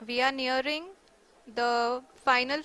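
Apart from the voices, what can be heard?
None of the usual background noises is heard.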